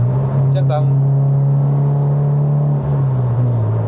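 A Toyota GT-86 with a six-speed manual gearbox and a changed exhaust, on a test drive in Malaysia, holds a loud, steady low engine drone from inside the cabin, dipping briefly near the end as the gear changes down.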